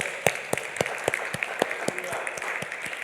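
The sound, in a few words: congregation clapping in church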